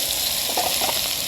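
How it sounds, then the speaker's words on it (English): Brussels sprouts fry in a pan on a camp cooker out in the bush, a steady loud sizzle and crackle close up with some stirring and no talk. "frying away here now, and I'm gonna fry the heck out of those"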